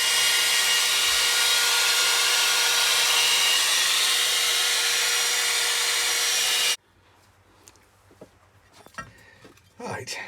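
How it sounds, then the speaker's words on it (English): A hairdryer blows on a washed Stanley No78 rebate plane, a loud, steady rushing roar that runs for about seven seconds and then cuts off, leaving quiet handling knocks and rustles. "I picked up this the other day, which is a hairdryer. I think I can use that just to give that a little dry."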